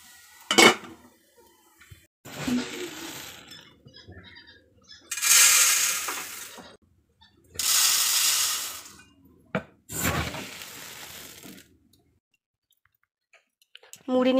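Potato fry is stirred in a kitchen pan, making repeated bursts of scraping and clinking metal, each lasting a second or two and separated by pauses, with a voice speaking in between.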